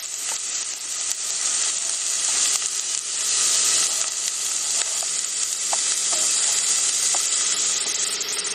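Ginger and onion aromatics sizzle steadily in a pot while being stirred, a loud continuous frying hiss with a few sharp scraping clicks near the end and no talk.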